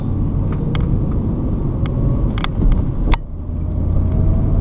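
Ford Mustang GT V8 burbling at idle, a heavy low-pitched throb that holds steady and close, with a brief dip near the end and some light ticks above it.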